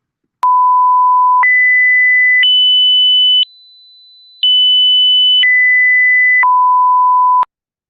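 A sampled 7000 Hz digital test tone aliases into a lower pitch, heard as a loud series of pure, steady beeps that step up in pitch, pause with a brief faint tone, then step back down in matching stages.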